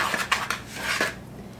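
A spoon stirs dry flour, cornmeal and sugar in a bowl for a Tex-Mex iron skillet dish, giving a brief soft scraping and a few light clinks, close and without talk.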